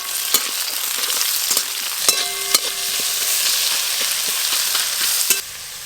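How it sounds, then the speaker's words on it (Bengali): Black cumin seeds, dried red chili and chopped onion sizzle loudly in hot oil, a constant crackling hiss broken by sharp clicks and scrapes of stirring in the pan. "তেল গরম হয়ে গেছে, কালো জিরে ফোড়নে দিয়ে দেব। কালো জিরে, শুকনো লঙ্কা, পেঁয়াজ কুচি"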